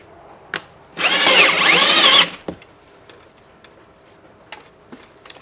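Power drill driving a self-tapping screw into a roof rack during a rooftop tent install, one loud, close burst of whining motor lasting about a second, followed by quiet ticks and small handling clicks.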